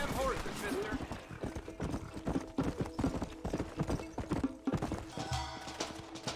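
Horse hooves clip-clop steadily in the Red Dead Redemption video game, a quick rhythmic trot under game sound with a whinny and distant gunfire, while people talk over it.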